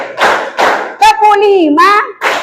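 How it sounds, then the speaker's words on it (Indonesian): Schoolchildren in an English lesson clap in unison to a rhythm game, a few sharp group claps spaced apart, with a voice calling out in the middle between them. "Tepuk 4"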